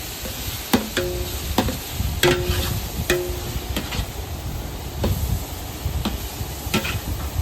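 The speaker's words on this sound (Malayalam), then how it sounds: "ഒന്ന് ഇളക്കി കൊടുക്കാം കേട്ടോ" Ginger being stirred in a cooking pot, with soft scraping and sizzling under a series of sharp spoon-on-metal taps and clinks spaced irregularly, close and moderately loud.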